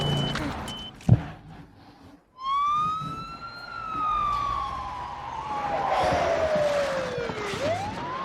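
A police car siren in a movie wails in a long rising and falling sweep, fairly loud and close, after a brief burst of other movie sound and a short quiet gap.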